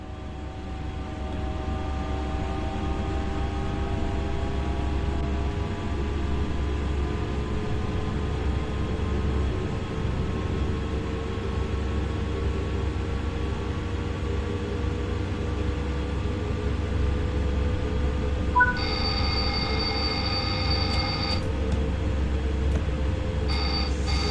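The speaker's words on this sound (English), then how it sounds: "Accelerate the train now and exceed the speed limit." A Train Sim World 5 locomotive on the Zwolle route hums steadily as it gathers speed, with a low drone and rising tonal whine, and a short beeping alarm chimes near the end.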